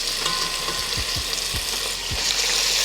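Beef sizzling and frying in a pan as tomato paste is stirred in, a steady loud crackle with several distinct scraping strokes of the spoon against the pan.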